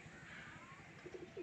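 Pet pigeons give soft, faint cooing, brief low murmurs near the end over quiet room noise.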